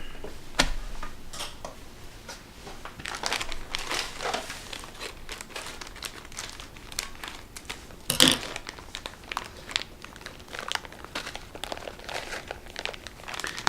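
A bag of brown sugar is torn and crinkled open for a pork rub, with scattered rustling, crackling and ticking plastic sounds close by and one sharper rip partway through.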